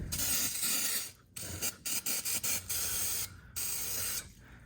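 Brake cleaner and ether sprayed from aerosol cans on an Oliver Super 66 tractor hiss in long, loud close bursts, then a run of short quick squirts and a final longer spray.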